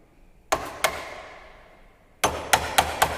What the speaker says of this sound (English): That marking level we can do the chiseling operation.